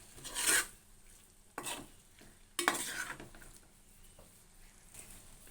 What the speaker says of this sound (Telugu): మసాలా పౌడర్ అర స్పూన్ వేసుకోవాలి ఇప్పుడు ఒకసారి కలుపుకుందామండి